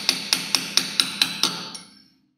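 Seven sharp metallic taps in a steady rhythm, a small hammer striking a chisel against the protective metal cap of a brake drum, each ringing briefly before a final fading strike.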